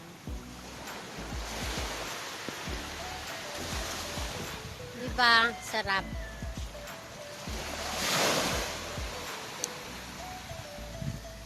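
Sea waves wash onto a beach in Zambales in a steady broad surf hiss, joined by wind noise, with a brief voice speaking in the middle and low rumbles underneath.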